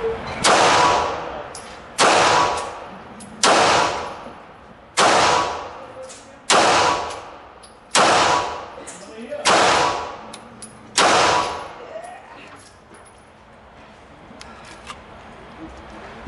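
Walther P1 pistol fired one-handed at an indoor shooting range: seven loud, sharp shots spaced about one and a half seconds apart, each with a ringing decay, followed by quieter handling noise.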